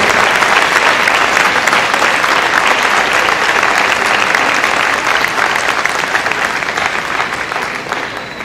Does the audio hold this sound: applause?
yes